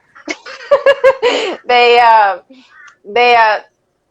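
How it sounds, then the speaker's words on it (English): A strange bird calls in the morning in Australia: several harsh, laugh-like harmonic cries in quick bursts, then two longer drawn-out calls with a pause between, fairly close and loud. "Is that a bird? Yeah, it is. Jeez, that's a trippy bird."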